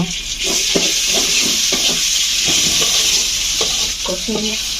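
Onion and garlic paste frying in a pan while being stirred, a loud continuous sizzle under rhythmic scraping strokes of a spoon, close up, with no talking.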